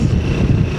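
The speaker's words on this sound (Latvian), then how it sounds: "Nu moins, baigais vējš." Strong wind roars steadily across the microphone for a moment, a dense low rumble heard outdoors with no voices over it.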